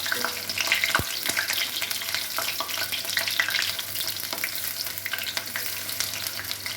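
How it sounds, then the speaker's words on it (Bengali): Bak flower fritters mixed with pea lentil sizzle and crackle in hot oil in a kadai, a close continuous frying hiss with a few sharp clinks of utensils. "কড়াইতে তেল গরম করতে দিয়ে বকফুল মটরের ডাল দিয়ে ভালো করে মেখে গরম তেলের মধ্যে"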